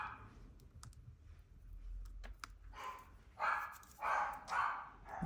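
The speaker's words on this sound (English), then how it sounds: "I will go see why the dogs are barking." Dogs bark faintly in the distance, a few spaced barks near the end, over soft clicking and low background rumble.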